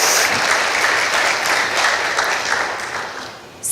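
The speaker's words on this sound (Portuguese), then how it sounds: "Dê um aplauso ao Senhor." A church congregation applauds the Lord during a service, a dense, steady wash of clapping that fades slightly at the end.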